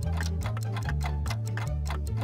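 A steady clock ticking in the Toonstruck video game, even regular ticks over a continuous loud music bed with a low repeating bass line, no talking.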